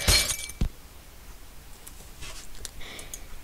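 A pane of glass shattering in the Happy Wheels video game: a sharp loud crash at the start, a second short impact just after, then faint scattered tinkles trailing off.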